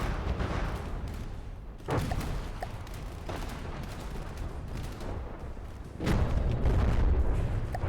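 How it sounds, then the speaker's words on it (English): Bombs rain down in the naval combat game From the Depths, a steady roar of overlapping explosions and rumbling blasts with a heavier surge of booms near the end, loud and dense with no voices. "Bombs coming in."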